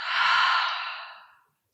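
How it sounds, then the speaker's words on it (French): A single deep exhale through an open mouth during a gentle yoga session, a breathy rush that swells quickly then fades over about a second and a half, close and alone. "Prenez une grande inspire par le nez. Expire, bouche ouverte."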